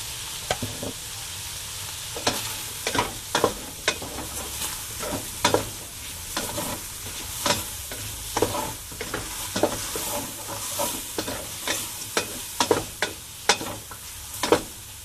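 Garlic and onion sauté in a pan for pancit bihon guisado, with a steady sizzle and frequent sharp scrapes and clacks of a spatula stirring at an irregular rhythm, close up and alone.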